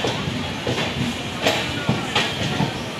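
The Lucknow Superfast Express, an all-general-class train, rolls in to Dighwara railway station platform with a steady rumble and rhythmic wheel clatter, while a voice is heard faintly in the background.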